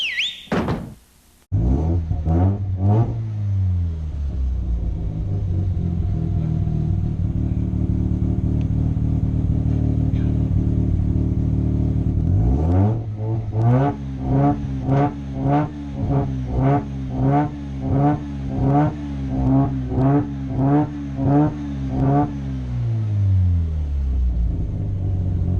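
A rotary-engine car idles with a deep, throbbing rumble, then revs repeatedly in rising and falling bursts. Toward the end it climbs into a long run of quick, sharp throttle blips. The engine is loud and close, with a brief thunk at the start.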